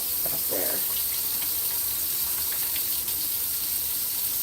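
Water runs from a tap in a steady, loud hissing stream throughout, with faint clinks near the start, with no talking.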